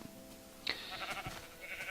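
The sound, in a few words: sheep bleating in the video game Minecraft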